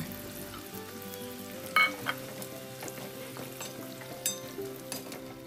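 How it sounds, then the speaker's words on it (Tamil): Ingredients for Sarkara Varati frying in oil in a pan, a steady close sizzle with scattered pops and stirring clicks throughout, no talk. "மீதி இருக்கிறது நம்ம இதே மாதிரி வறுத்து எடுத்துடலாம்."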